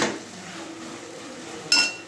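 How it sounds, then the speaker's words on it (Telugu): Fried bread pieces tipped into a pan for papaya bread halwa, giving a single loud clatter and clink of metal cookware near the end after a low, quiet background. "ఇప్పుడు వేయించి పెట్టుకున్న బ్రెడ్ ముక్కలు వేసేద్దాం"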